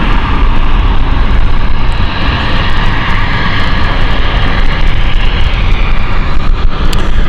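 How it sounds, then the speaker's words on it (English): A Zurich airliner touches down on the runway at London City Airport, its engines giving a loud, steady roar that fills the whole stretch with rumbling broadband noise and no voices. "So that is the Zurich flight we've just seen touchdown."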